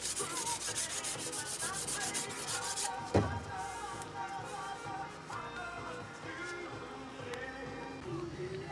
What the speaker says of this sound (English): Now this is with rough paper